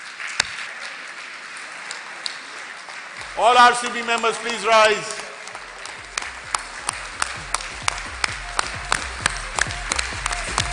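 A room of Rotary conference attendees claps for the organizing committee, at first a voice speaking over a brief burst, then a run of distinct, fairly close claps in a loose rhythm.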